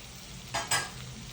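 Long-cut onions go into a pan of frying bitter gourd, giving a soft background sizzle with two quick stirring scrapes near the middle.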